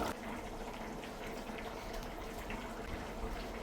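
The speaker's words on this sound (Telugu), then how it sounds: "ఇప్పుడైతే రైస్ ఉడుకు పట్టింది" Chicken pulao rice simmers in a pot, giving a soft, continuous bubbling hiss that stays faint and even throughout, with no talking.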